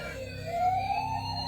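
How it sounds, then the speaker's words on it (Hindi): A toy fire truck's siren wails with a rising, wavering electronic tone over a low buzzing hum, moderately loud and alone with no talking. "ये तो फायर फाइटर वालों का ट्रक है ना। वो अपने आप ऑन हो गया, उसमें से सायरन बजने लगा।"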